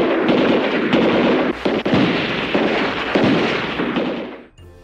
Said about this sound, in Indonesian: Terjadi aksi saling tembak antara anak-anak mantan pro player ini dengan dua orang penjahat tersebut.